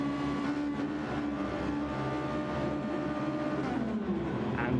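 Sim racing game start at the Red Bull Ring with Ferrari 296 and GR2 race cars pulling away, a steady, dense drone of engines holding at constant loudness, one pitch rising near the end.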